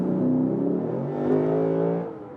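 A Lexus RC F's 5.0-litre 480 hp V8 revs up and holds a throaty, rising, rumbling roar for a couple of seconds before easing off, close and loud.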